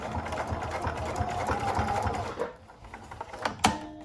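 A sewing machine stitches a backstitch through curtain fabric for a camper van window, running in a rapid steady chatter for about two seconds, then stopping with a few quieter clicks and a sharp clack near the end.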